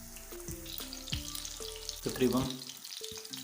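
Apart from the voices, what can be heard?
chapli kabab frying on low heat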